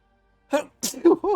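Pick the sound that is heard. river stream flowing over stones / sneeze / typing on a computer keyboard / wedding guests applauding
sneeze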